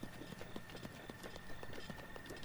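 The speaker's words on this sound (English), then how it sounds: "There's a horse." Horse hooves clip-clopping in the video game Legend of Zelda: Breath of the Wild, a steady quick rhythm of soft hoofbeats over a continuous game ambience with a faint steady tone.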